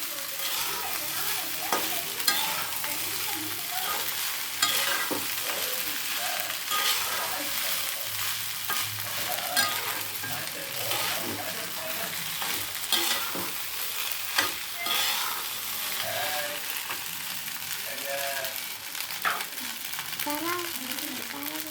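Chicken being stirred and fried in a pan, with a continuous sizzle and frequent scraping stirs throughout, steady and close, with no voices.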